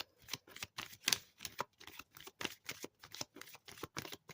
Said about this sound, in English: It sounds like I bent the card.